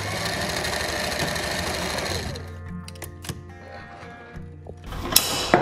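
A sewing machine runs a continuous whirring stitch through fabric, then switches to short back-and-forth bursts of stitching broken by mechanical clicks and small knocks.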